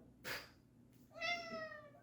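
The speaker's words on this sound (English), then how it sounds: "Don't you meow at me, you're bugging my review." A cat meows once, a clear drawn-out mew nearby in a quiet room, preceded by a soft brief rustle.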